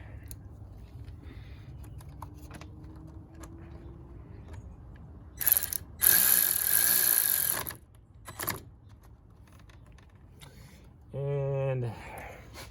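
Tightening a car battery terminal during a new battery install: scattered small metallic clicks and ratcheting turns, with a louder burst of grinding mechanical noise midway and a short whirring buzz near the end, under quiet surroundings.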